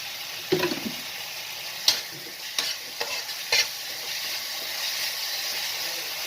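Bhetki fish masala cooking in oil in a pan, with a steady soft sizzle under several scraping stirs of a spatula spaced a second or so apart.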